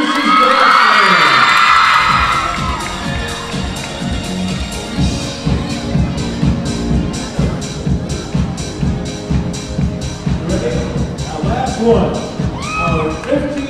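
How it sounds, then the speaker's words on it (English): Audience at a Staten Island dance school awards show cheering and whooping loudly, with a dense crowd roar that settles into sustained clapping and shouts, under occasional announcer talk. "A big round of applause for Teresa Pagone, Miss Teresa's Dance"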